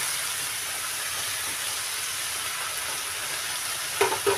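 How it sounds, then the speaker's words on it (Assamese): Brahmi greens and potato fry in a lidded pan, giving an even, soft, continuous hiss that runs throughout, with a brief clatter near the end. "মই এয়া ভাজিছোঁ, ঢাকন মাৰি দিলোঁ।"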